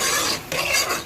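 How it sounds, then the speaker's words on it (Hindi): Chopped spinach sautéed with spices in a pan, a short burst of hissing sizzle and scraping stirs, close and without voices. "अब हम इसको थोड़ा सा 5 मिनट मसाले के साथ भूनेंगे"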